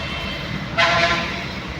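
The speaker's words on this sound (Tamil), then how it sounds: "இதான் சென்னை ரயில்வே ஸ்டேஷன்" Steady crowd and platform ambience fills Chennai railway station, an old Madras terminus, broken by one short, loud train horn blast partway through.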